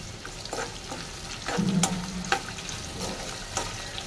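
Tamarind and chutney ingredients sauté in a hot pan with steady oil sizzle and a few stirring scrapes, close and moderately loud, with no talking.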